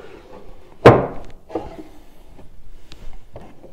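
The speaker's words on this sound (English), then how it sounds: "you've also got some secret drawers which come open there as well" Wooden drawers of a large antique pine secretaire with a drop-down writing slope being worked: one loud sharp knock near the start, then softer sliding bumps and small taps, close by.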